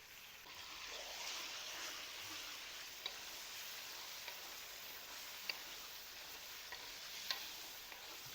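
Chopped tomatoes hit hot oil in a pan for a chicken fry and sizzle steadily at moderate volume, with occasional sharp clicks and scrapes from stirring and no talking.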